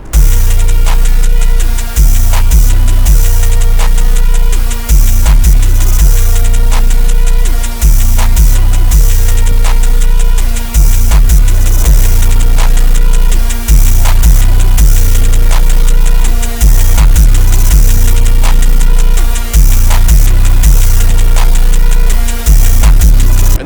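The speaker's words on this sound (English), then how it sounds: "this is what our beat sounds like with a standard soft clipper versus that kilohertz clipper" A hip-hop beat plays first through a standard soft clipper and then through a kilohertz clipper distortion, with heavy, loud, saturated bass hits and a steady repeating rhythm throughout.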